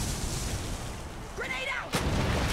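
A grenade blast in the shooter game Clive Barker's Jericho, arriving as one sharp, loud burst near the end after a stretch of low rumbling combat noise; a voice briefly sounds just before it.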